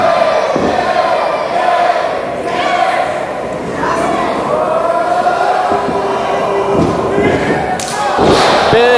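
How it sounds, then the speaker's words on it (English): Wrestlers trade forearm shots in the ring of a grudge match at a wrestling show, with loud thuds and slaps landing under a constant roaring crowd and commentary. "trading shots in the middle of the ring."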